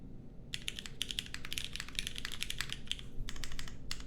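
Mechanical keyboard with lubed MX2A Nixie switches, SW films, SW Chewy springs, aluminum case and GMK keycaps, typed on in close, rapid bursts of crisp clacks with brief pauses between runs.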